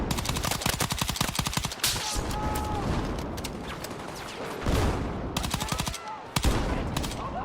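Rapid automatic rifle fire with an ACOG scope in Battlefield 6, loud sustained bursts of cracking shots with brief pauses between strings, up close and dominant.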